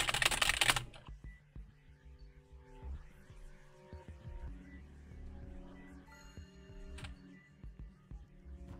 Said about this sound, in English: I think this is a mechanical keyboard. It's got, like, the big keys.